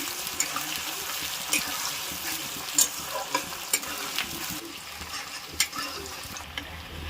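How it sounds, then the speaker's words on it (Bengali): Chopped onions fry in a pan with whole cumin and cardamom, a continuous close sizzle with occasional stirring scrapes and small pops, steady and moderately loud. "এবারে দিচ্ছি পেঁয়াজ কুচি দুটো ভালো করে ভেজে নেব পেঁয়াজটা"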